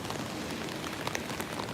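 Downpour rain falling in San Francisco on a stormy morning, a steady faint hiss of drops on surfaces with occasional brighter splatters, continuous and ambient.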